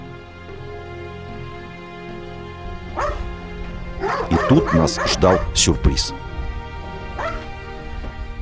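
Trained mine-detection dogs on a minefield in Karabakh let out several loud barks and yips in short bursts, mostly in the middle of the stretch, while someone narrates over them.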